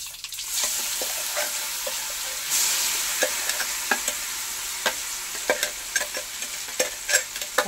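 Mango pickle being stirred into fried chillies in hot oil, a steady oily sizzle broken by a series of sharp spoon scrapes and clicks against the pan, close and clear with no talking.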